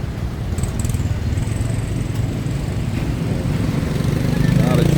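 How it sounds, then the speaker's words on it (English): Busy street traffic in San Juan, Batangas: motorcycle and car engines drone steadily close by, growing slightly louder toward the end, with a faint horn-like tone and a voice talking under it. "A lot of traffic today."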